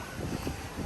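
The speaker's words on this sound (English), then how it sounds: "So it's so windy." Wind gusts buffet the microphone at Epcot, Disney World, producing a low, rumbling roar that swells and fades across the short clip.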